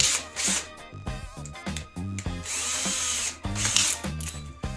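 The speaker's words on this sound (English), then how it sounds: "use the nail as the drill bit to run the pilot hole" A cordless drill bores a pilot hole into Brazilian cherry hardwood using a clipped nail as the bit, with close, loud whirring bursts stopping and restarting several times alongside grinding rub noises.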